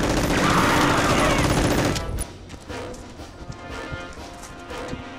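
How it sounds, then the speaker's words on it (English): Staccato bursts of machine gun fire from an MG turret during a toy soldier battle scene, dense and loud for about two seconds, then fading into scattered softer pops and clatter. "What is it? It's an MG turret."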